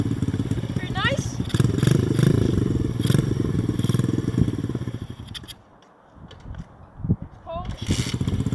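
A cold X pro X26 125cc dirt bike engine starts and idles close by, a steady loud putter that briefly dies away near the end before running again.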